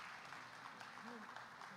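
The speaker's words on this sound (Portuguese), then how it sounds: "Uma salva de palmas." Church congregation applauding during a worship service, a steady wash of many hands clapping that stays level and fairly quiet throughout, with faint voices mixed in underneath.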